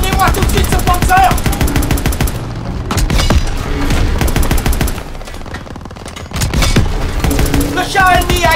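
Loud, dense gunfire and explosions rip through a WW2 battle as a German Panzer tank is destroyed in Call of Duty WW2, during the liberation of Paris: rapid bursts and heavy booms, briefly easing midway before surging back.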